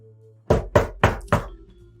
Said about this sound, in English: You knock.